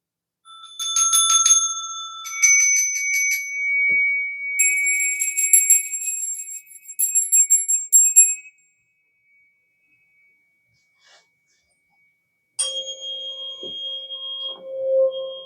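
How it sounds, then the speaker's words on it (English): Bright, tinny bell rings in several quick trilling bursts, then a pause of a few seconds before a couple of lower, clearer electronic-sounding dings; close and loud with no voices. "We need that bell too."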